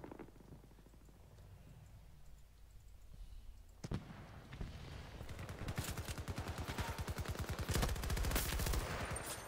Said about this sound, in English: Five people shooting at him